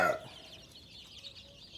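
Young chicks and hens of a Thai gamefowl line are raised in a brooding pen out on an open farm field, with one brief louder cluck at the start followed by steady, faint high peeping chirps.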